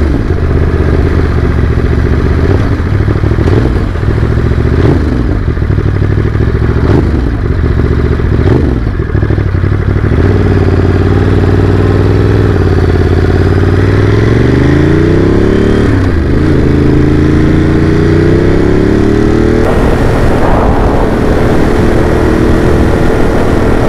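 A Ducati Monster motorcycle engine roars loudly and steadily while riding, with rising and falling revs through gear changes and wind rumble throughout. No speech is heard.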